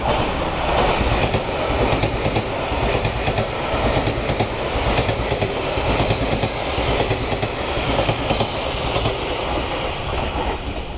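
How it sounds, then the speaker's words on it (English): A Yakumo limited express train rushes past close by at Ikura Station in Japan without stopping, a loud continuous roar of wheels and rattling cars with rhythmic clacking throughout. "that's a Yakumo limited express train"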